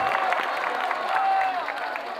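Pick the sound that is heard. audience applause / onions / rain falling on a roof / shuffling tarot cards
audience applause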